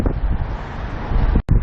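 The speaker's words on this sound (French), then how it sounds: "il y a énormément de vent, ça souffle vraiment beaucoup" Strong gusting wind roars across the microphone while crossing the Golden Gate Bridge in San Francisco, a loud continuous buffeting with a brief dropout near the end.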